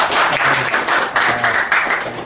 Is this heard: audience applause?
yes